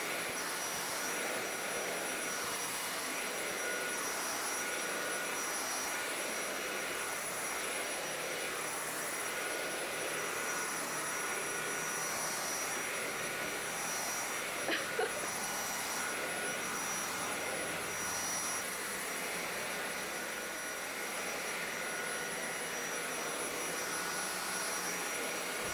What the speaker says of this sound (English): I don't know why Toshi feels the need to be here while I'm vacuuming.